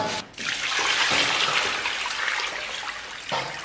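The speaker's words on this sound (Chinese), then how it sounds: "咱们先把这些肉给它洗一下。" Running water pours steadily while pork bones are rinsed for a spicy braise, a continuous hissing splash that shifts slightly in strength, with no talk.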